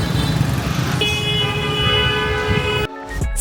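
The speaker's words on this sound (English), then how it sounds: "normally the traffic here looks like this" Busy street traffic in Hanoi's old quarter, cars and scooters rumbling past close by while a horn sounds in a long sustained blast, followed by brief quieter road noise.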